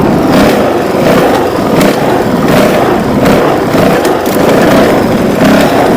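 A Honda CRF450L dual-sport motorcycle engine runs in second gear on a trail, loud and close with a throbbing, pulsing drone and rhythmic throttle surges, heavy rumble and wind noise throughout.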